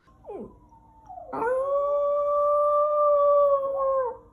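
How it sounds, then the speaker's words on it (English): A pet dog howls close by: a short yelp first, then one long sustained, steady-pitched howl lasting nearly three seconds before tapering off, with no talking. "I'll insert a clip of him howling."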